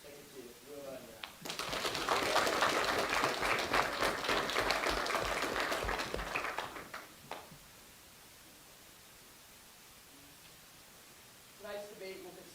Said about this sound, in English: Please give a round of applause to Ticket 2, Luma and Raab.